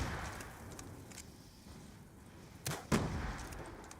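A grenade launcher fires once in a zombie video game, a sharp bang followed by a quick broadband burst that stands out briefly over quiet game ambience, with a fainter thud just before it.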